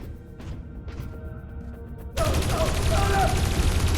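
Gunfire in the video game Dreamfall Chapters, where a loud burst of rapid shots suddenly cuts in after a quieter stretch of sparse sounds. The barrage continues densely to the end.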